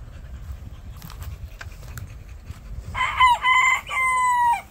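A rooster crows among free-range chickens of rare breeds, a clear, close crow rising out of a quiet, low outdoor rumble near the end, with no talking.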